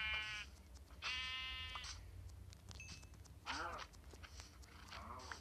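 Minecraft sheep bleat near the player, several long wavering baas with pauses between them, over a low steady background hum.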